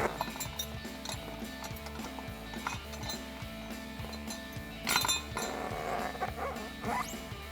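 Black metal bracket for a Jeep Gladiator JT spare tire, sliding along the spare tire cable: repeated light metallic clinks and rattles, close and irregular, with a louder cluster partway through.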